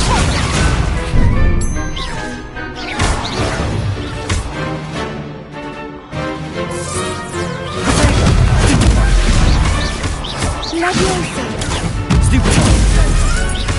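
Loud fiery blasts and crashing impacts from Confringo spells cast in the Hogwarts Legacy video game, repeated bursts over a dense layer of game music and combat noise.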